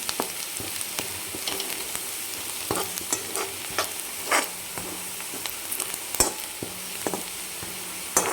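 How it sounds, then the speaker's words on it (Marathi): Spices and sandge, dried mixed-lentil dumplings, sautéing in hot oil. A soft, even sizzle sits beneath frequent sharp clicks and scrapes of a spatula stirring against the pan, irregular and close, with no one speaking. "हे जे मसाले घेतले होते आपण ते टाकून घेणार आहे आणि याला पण छान तेलामध्ये परतून घ्यायचं आहे आपल्याला"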